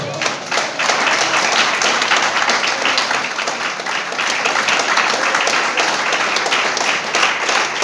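Loud, steady applause from a church congregation during a worship service, a dense wash of many hands clapping continuously and evenly for several seconds.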